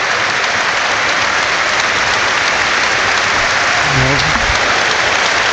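Crowd applause at an Anfield football match between Liverpool and Bournemouth for defender Konate, a steady broad wash of clapping from a large stadium crowd with a voice briefly rising near the end.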